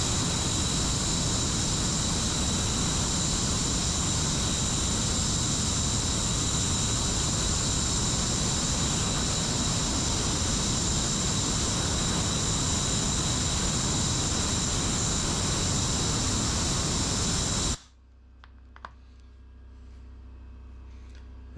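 A Harbor Freight spark plug cleaner blasts a spark plug with a loud, continuous hiss of air for about eighteen seconds, then cuts off abruptly, followed by faint handling clicks.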